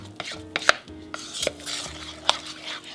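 A metal spoon stirs and scrapes a thick peanut butter mixture against the bottom of a bowl, giving irregular clinks and scrapes with sharp metallic taps.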